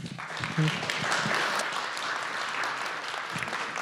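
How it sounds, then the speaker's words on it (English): Audience applause for a guest speaker after a talk on Japan's yakuza, a steady, moderately loud patter of many hands lasting several seconds, fairly close. "a quick round of applause for Jim"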